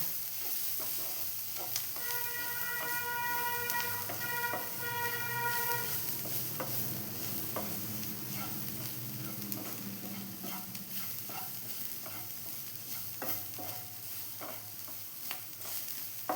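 Masala is stirred with spice powders in a pan, with a continuous soft sizzle and irregular scraping and tapping of a spoon. A faint horn-like tone sounds in the background early on.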